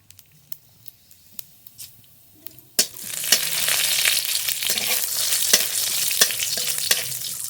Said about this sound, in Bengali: কড়াইতে অল্প একটু তেল দিয়ে কটা জিরে